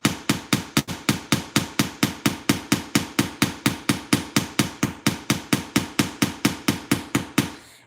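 Metal is hammered on top of a large steel bench block to texture it for beaded jewelry: about thirty sharp, ringing strikes in a steady, fast rhythm, loud and close with no talk.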